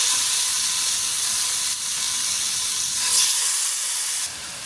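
Food sizzles while cooking in a pan, a loud, continuous bright hiss that holds steady with slight surges and dips, close up and without speech.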